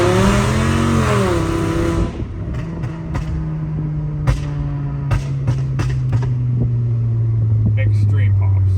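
A loud Volkswagen Golf revs hard at first, then settles into a deep, steady exhaust drone. Sharp pops and crackles are scattered throughout, close and prominent.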